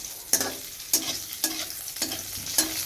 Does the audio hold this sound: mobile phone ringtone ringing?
no